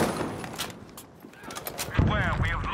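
Gunshots in Battlefield 5, several sharp reports scattered through a busy battle mix, with a voice speaking near the end.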